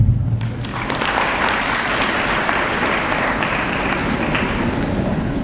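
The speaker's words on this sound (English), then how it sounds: "You all deserve a round of applause." An audience claps for students at a graduates' association ceremony, a loud, dense burst of applause that holds steady throughout, close and without talking.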